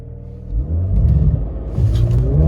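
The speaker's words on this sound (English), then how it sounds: "I have to manually launch this, so 1 foot on the brake, 1 foot on the gas." A Mercedes C43 AMG launched manually from a light at night, its engine rumbling loud and close as it builds up and surges forward, with a deep steady roar and a step up in intensity partway through.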